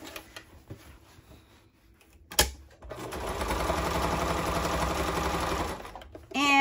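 Sewing machine stitching around the edge of a fabric tool belt, a steady close whirring run of stitches lasting a few seconds after a quiet pause with a brief bump.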